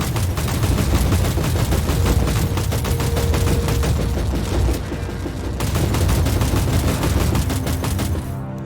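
Rapid bursts of gunfire from the Warhammer 40K video game, with dense automatic shots repeating in quick succession, loud and continuous, briefly pausing before resuming, no talking.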